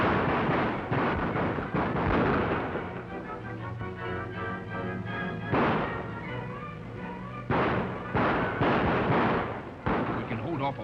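Gunfire in a 1936 western: repeated loud, sharp shots and bursts come in clusters over a sustained musical score, with a lull in the middle before more rapid volleys.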